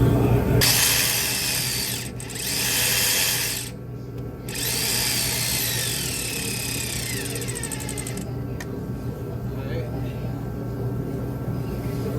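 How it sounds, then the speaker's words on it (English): A power tool removing a bolt under a car, loud continuous whirring that runs for long stretches with two brief pauses, followed by a steadier, lower-level hum at the end. "you want to take this bolt off"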